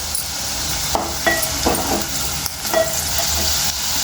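Sliced onions frying and being stirred in a pan for a cashew chicken curry, with a steady sizzle and several scraping stirs of a spoon against the pan; no one speaks.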